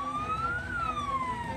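A wailing electronic siren from a fire engine dispatched to a house fire rises and falls smoothly, steady and fairly loud over a background of road noise, with no voices.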